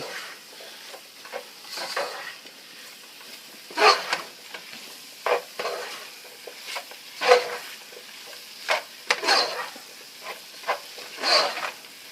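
A spoon stirs flour into turkey pot pie filling in a pot, soft scraping strokes and thick wet slaps repeating irregularly over a faint simmering hiss, close by.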